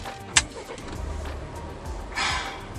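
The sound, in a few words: Volvo XC90 2019 petrol engine starting with rotary switch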